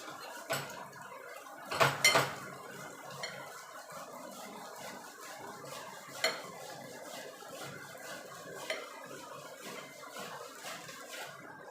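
Ripe palm fruit being rubbed by hand to work out the pulp, a quiet wet squelching and scraping with a few sharper knocks and clatters near the start.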